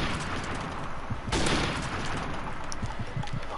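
Gunfire in the video game Call of Duty MWR, a steady stream of overlapping shots with a sharper louder burst near the middle, dense and continuous throughout.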